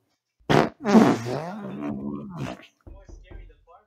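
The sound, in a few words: voice imitating fart noises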